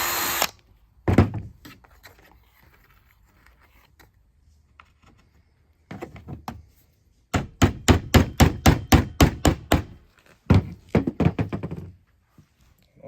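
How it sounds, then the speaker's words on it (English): A power drill bores a pilot hole in a wooden nesting box, opening with a quick whir and then a long run of rapid, evenly spaced sharp knocks, loud and close, followed by a shorter burst. "Drill another pilot hole."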